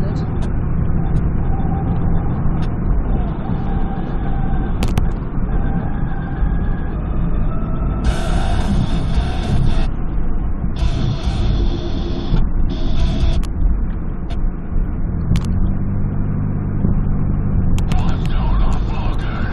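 A car being driven, with a continuous road and engine rumble under intermittent talk, plus brief clicks and hissy bursts along the way.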